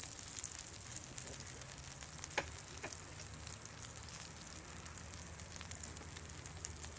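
Beef liver and onions frying slowly in oil over medium-low heat, giving a steady, soft sizzle with faint crackles and a couple of brief pops, close by and alone.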